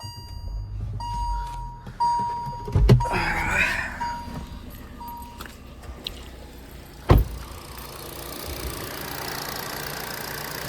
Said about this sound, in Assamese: মই ইঞ্জিনটো ষ্টাৰ্ট কৰি শুনাই দি আছোঁ আপোনালোকক, চাউণ্ডটো শুনাই দিওঁ